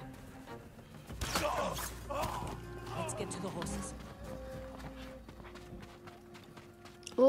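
Horse hooves clop on hard ground in Ghost of Tsushima over a bed of game sounds and rustling, with a few scattered thuds and a brief speaking voice near the end.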